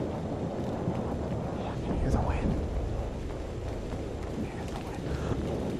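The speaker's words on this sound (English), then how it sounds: "I can hear the wind" Wind blowing through the video game Haunted Memories, a steady, full-bodied rush with gusting swells that carries on for the whole stretch, while a voice speaks over it.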